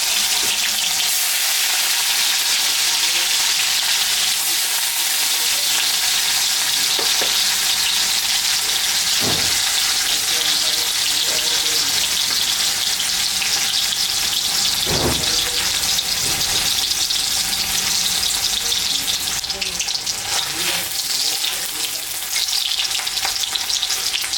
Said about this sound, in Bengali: তেলটা গরম হয়ে গেছে, পনিরটা আমি একটু ভাজে নেবে পনিরটা